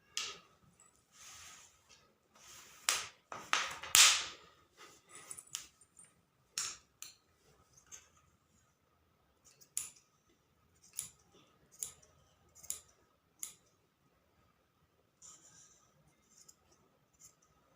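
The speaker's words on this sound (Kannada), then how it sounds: "ಸೊ ಈಗ ನೀಟಾಗಿ ಹಾಗೆ ಕಟ್ ಮಾಡಿ ಸಹ ತೋರಿಸ್ತೀನಿ" Scissors snipping through churidar dress fabric during tailoring, a series of short crisp cuts in quick bursts near the start, then sparser single snips spaced apart, close and fairly quiet with no talk.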